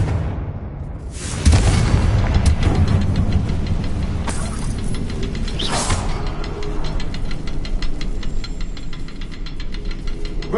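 Confringo fire spell explosion in Hogwarts Legacy, a sudden loud boom followed by a sustained rumbling roar and crackling that carries on for several seconds.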